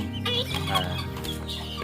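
Guinea fowl call with rapid, harsh clucking cackles, several birds overlapping in short bursts at close range over a quiet farmyard background.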